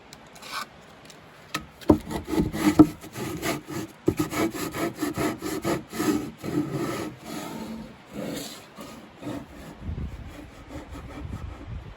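Rhythmic scraping strokes sand back and forth across wood for a chicken coop, uneven in pace, close by and fairly loud, with no voices.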